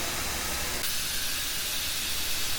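Steam locomotive hissing loudly as its brakes are released, a continuous broadband rush of steam close by that shifts in tone partway through.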